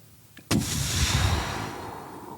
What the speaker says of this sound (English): in the distance another explosion, and smoke begins to billow into the air